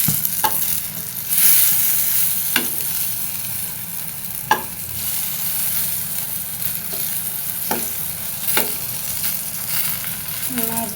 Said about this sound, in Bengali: আমার বেগুন ভাজা হয়ে গেছে